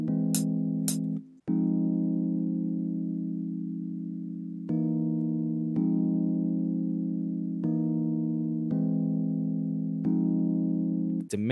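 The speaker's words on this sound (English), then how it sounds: "Let's make this an augmented chord." An augmented chord played in FL Studio for an R&B beat: a sustained synthesized chord restruck several times at a slow, even pace, clean and upfront with no voices.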